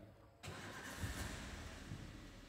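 A car engine cranks and catches after a jump-start from a motorcycle battery, going from near silence to a sudden start and then a steady mid-pitched idle with slight revving, close by and without talk.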